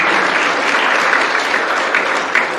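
Steady, dense applause from a sizable audience, loud and sustained throughout with no voices standing out.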